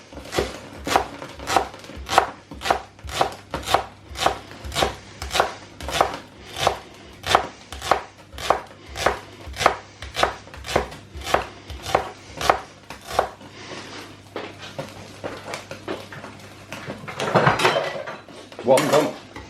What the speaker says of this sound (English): I'm just going to make chopping slightly easier, because if you've ever chopped leeks